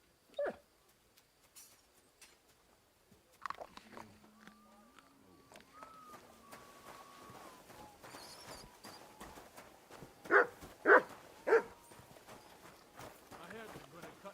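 A dog whimpers and yelps in the Kingdom Come Deliverance 2 video game, a few short high cries standing out near the end amid game ambience and a low tone, with no talk over them.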